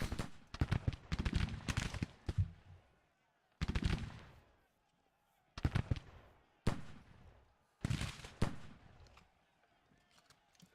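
Musket volleys in a Grand Tactician: The Civil War battle, crackling bursts of rifle fire arriving in several separate clusters with quiet gaps between, some shots sharp and close, others rolling.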